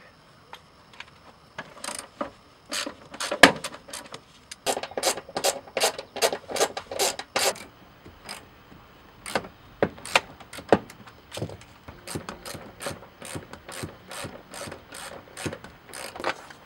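A ratchet wrench loosening car seat bolts, its rapid clicking coming in repeated bursts with short pauses between strokes, close and crisp, with no one speaking.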